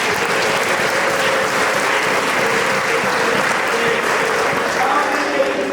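A church congregation claps loudly and continuously, a dense, even wash of applause from a large crowd with no pauses.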